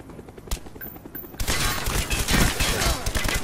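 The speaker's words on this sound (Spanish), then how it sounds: "Cuidado con el helicóptero." Gunfire and a helicopter in Call of Duty Black Ops 1 multiplayer: after a quieter start with a single sharp crack, a dense, loud barrage of shots and rumbling explosions breaks out and continues steadily.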